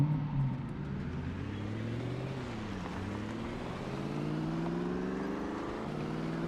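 A car engine in the Project Zomboid video game hums steadily, its pitch rising and falling slightly as the vehicle drives, moderately loud with no talk over it.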